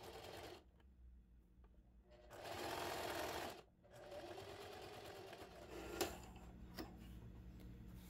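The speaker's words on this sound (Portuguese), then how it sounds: "E vou costurar, ó. Venho costurando aqui essa parte." A sewing machine stitching fabric for a tabletop scarecrow runs in short bursts, a close whirring rattle that starts and stops, with quiet clicks and handling noises between runs.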